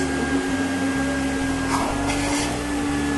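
BleuGrens T8 vacuum cleaner running, a loud continuous motor drone with a steady whine and rushing airflow, unbroken throughout at close range.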